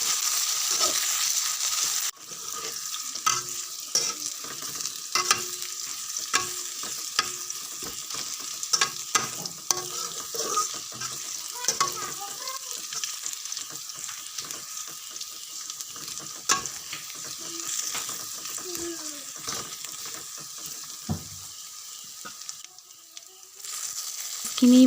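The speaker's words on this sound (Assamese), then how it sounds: "এতিয়া এইখিনি পিঁয়াজখিনি ব্ৰাউন কালাৰ হোৱালৈকে ভাজিম অলপ।" Onions fry with garlic and ginger in a pan for a goat meat curry. A steady hiss fills the clip, with frequent sharp clicks and scrapes of stirring and no voices.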